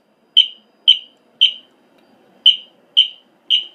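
Six sharp electronic fire alarm chirps during a system test, at a steady, quick rhythm with a brief gap after the third, loud and close with nothing else behind them.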